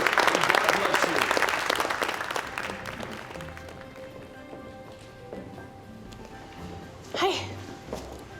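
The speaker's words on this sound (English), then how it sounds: "Let's give them a good round of applause to all of our visitors this morning" A church congregation applauds visitors during a morning service, dense clapping loud at first then thinning and fading over several seconds, with scattered voices afterward.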